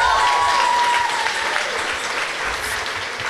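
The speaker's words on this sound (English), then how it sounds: "Let's give a round of applause" Audience applause at a Gateway City Arts evening event in Holyoke, a dense, sustained clapping that is loud at first and slowly tapers off, with a brief whistle-like tone near the start.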